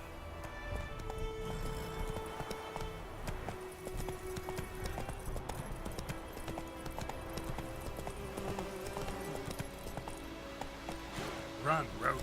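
Hooves of the horse Roach clip-clop at a steady gallop in The Witcher 3, a quiet rhythmic beat running throughout under game music and ambience.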